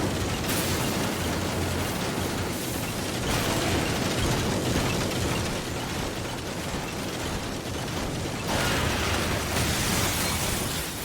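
A sustained, dense roar of explosions and mechanical clatter fills the scene as a target is destroyed in the video game Lost Planet, loud and continuous throughout with no speech.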